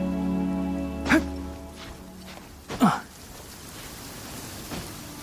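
Steady rain falling in the video game Genshin Impact, a soft continuous wash under a low hum, with a few brief louder taps or voice bursts breaking in.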